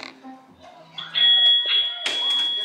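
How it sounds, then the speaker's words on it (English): A dog treat dispenser plays a bright electronic bell chime, a sustained ringing tone followed by a second louder ding, heard close up after brief soft speech. "Here's the little bell and the treat."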